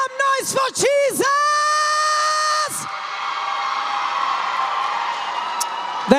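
An audience at a live event yells and whoops loudly with a few sharp, wavering shouts up front. A steady crowd roar and cheering follow and keep going to the end.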